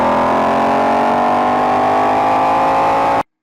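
Supercharged 5.2-liter V8 of a 2020 Ford Mustang GT500 sends out a loud, steady, rich exhaust drone at a held engine speed, close by with no talking, then cutting off abruptly.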